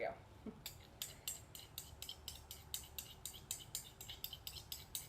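A spoon scrapes and clinks rhythmically against a bowl while stirring a borax mixture for homemade bouncy balls, a steady series of faint close metallic taps.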